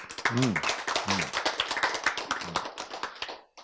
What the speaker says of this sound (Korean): 여러분 박수 잘 쳤어요